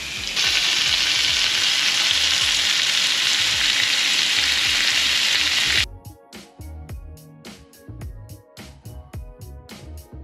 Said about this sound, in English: the tenderloin and we'll sear that from each side for about 3 to 4 minutes on each side.